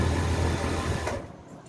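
A sewing machine runs steadily while stitching the last edge of a kurti's lining, a loud continuous motor whir that eases off near the end.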